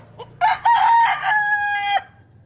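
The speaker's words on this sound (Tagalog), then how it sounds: "Chicken." A rooster crows once, loud and close, a drawn-out cock-a-doodle-doo with a faint quiet hum underneath.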